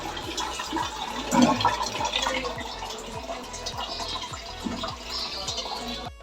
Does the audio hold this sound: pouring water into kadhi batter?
yes